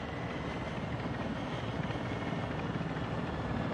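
Steady, dense rotor and engine roar from an extraction helicopter in the Call of Duty DMZ video game, continuous and loud with no pauses and no voices.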